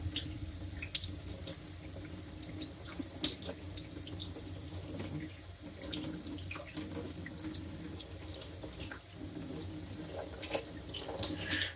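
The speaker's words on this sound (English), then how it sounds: "Now I'm using just a little hot water just to get the soap off." Hot tap water runs steadily from a faucet to rinse soap off a straight razor, a continuous close rushing splash with small drips and clinks and no talking.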